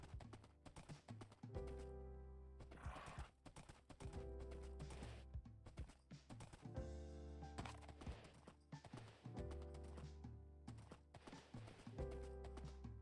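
Rhythmic donkey hoofbeats clip-clopping steadily throughout a Minecraft hardcore world, a busy run of close, even steps with no voices.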